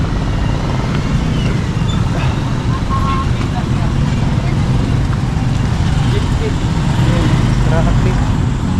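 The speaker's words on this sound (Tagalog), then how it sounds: "Nagka-traffic lagi dito ay." Dense road traffic makes a loud, steady rumble of engines and tyres that continues throughout without letting up.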